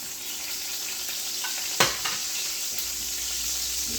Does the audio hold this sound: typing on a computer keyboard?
no